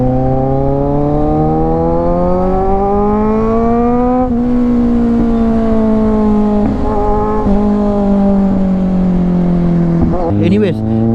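A motorcycle overtaking on the road heard from a rider's position, a loud continuous engine drone with pitch gradually rising and shifting as it passes, wind rush throughout and a brief burst of noise near the end.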